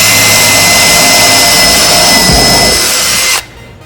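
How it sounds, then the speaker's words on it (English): A power drill runs loud and steady, driving into a wooden board during robotics competition course assembly, then cuts off abruptly near the end. "we'll start our drill facing down and then angle it in"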